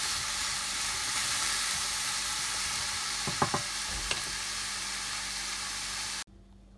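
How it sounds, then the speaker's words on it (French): Sliced onions sautéing gently in a pan until golden, a steady broad sizzle running throughout with a few sharp spoon-on-pan clinks near the middle, then cutting off abruptly at the end. "Après avoir fait revenir les oignons, voici la couleur que vous devez obtenir"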